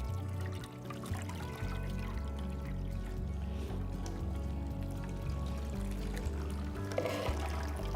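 Water pours from a measuring cup onto soil in a tabletop demonstration, a steady close splashing and trickling stream that continues evenly with no talk.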